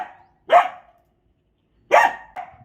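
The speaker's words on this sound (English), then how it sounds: "Bark. Bark. Bark." A dog barks on command, three sharp, loud barks close by: one single bark, a pause of over a second, then two barks in quick succession.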